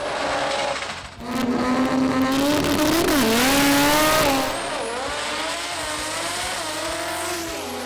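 A modified Toyota Corolla roars through a drag racing final at Jamboree Sydney 2018, engine revving loudly and climbing through gear changes over several seconds before easing to a lower drone.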